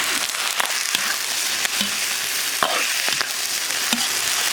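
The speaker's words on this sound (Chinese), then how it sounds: "炒到大泡转小泡的时候炒鸡肉。" Chicken pieces sizzle in oil with rock sugar caramelised in a wok, a close, steady crackling fry broken by the scrape and clack of stirring every second or so.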